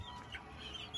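Gamefowl on a farm, chickens clucking faintly in the background with short, scattered calls over low ambient noise and no talk.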